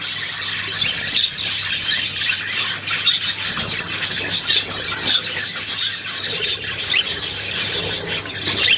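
Gulls calling and squawking repeatedly over a steady outdoor wash of wind or surf, the cries mid-distance and fairly loud, with no one talking.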